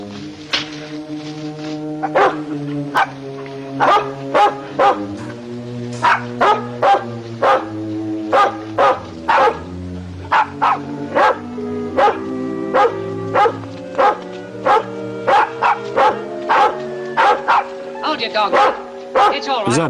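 Dogs bark repeatedly in a steady, loud series of sharp yelps and woofs that carries on throughout, with a low droning tone underneath.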